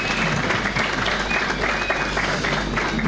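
A large crowd applauds at a political party rally speech by the ANAMOLA party president, the clapping steady and dense throughout, with some voices mixed into the ongoing applause.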